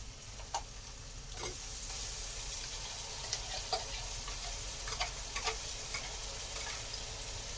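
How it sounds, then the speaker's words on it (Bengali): Sliced onions fry in hot oil in a kadai, giving a steady, even sizzle throughout with occasional light ticks and pops and no talking. "তার জন্য পেঁয়াজ দিয়ে দিয়েছি কড়ার মধ্যে, তেল গরম হয়ে গেলে এবার দিয়ে দেবো আদা রসুন।"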